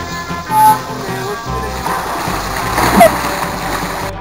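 Water splashing in a swimming pool, a few uneven splashes close by mixed with background voices and laughter.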